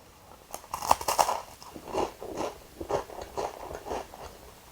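Loud, close crunching as someone bites into a crisp, sugar-coated flat salty Mont Blanc pastry, then chews with a series of brittle crackling bites.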